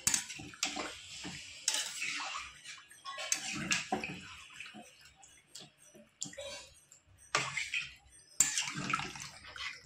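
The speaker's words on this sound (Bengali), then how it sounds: "সেই গামলার মধ্যেই মশলা দেওয়া জলটা আমি দিয়ে দেবো" Spiced water poured into a bowl of marinated catfish for a potato curry, splashing and gurgling in uneven bursts up close, with clinks of a vessel between pours and no talk.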